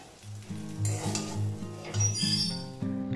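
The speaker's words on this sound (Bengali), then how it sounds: "ধীরে ধীরে ভাজতে ভাজতে সজনে ডাঁটাগুলো অনেকটাই শুকনো শুকনো হয়ে এসেছে।" Drumstick stalks frying in a pan until nearly dry, with a steady close sizzle punctuated by stirring scrapes and light metallic clinks of utensil against the pan.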